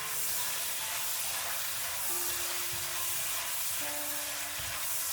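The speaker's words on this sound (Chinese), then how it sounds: "继续翻炒均匀" Pork with a splash of dark soy sauce sizzles in a hot wok while being stir-fried for a luffa gourd and pork dish, a steady close hiss with soft scraping thumps from the turning, over light background music.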